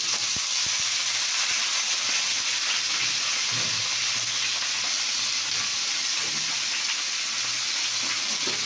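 Ridge gourd and potatoes sizzle together in a hot pan, a steady close hiss and crackle of frying that runs unbroken throughout, with a few faint clinks underneath and no speech.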